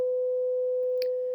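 A steady 504 hertz sine tone, pitched like an approaching fire truck siren, hums evenly and clean for just over a second, with a small click partway through and another at the end.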